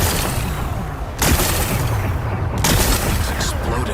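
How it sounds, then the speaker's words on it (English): Two loud blasts from a video game as rocks are blown apart to expose a power cell, each a sudden broadband boom with crackling debris, about a second and a half apart, over a dense noisy background. "It's exploding."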